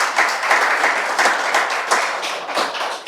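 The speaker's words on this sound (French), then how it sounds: "sur vos applaudissements," An audience applauds at an open day at a hospitality business school, a dense, steady patter of many hands clapping at close range for about three seconds.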